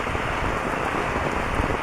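Steady rain falls on a rainy day, a dense, even hiss of drops on surfaces that stays loud and unbroken throughout, with no voices.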